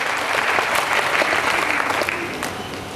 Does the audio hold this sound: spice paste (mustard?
no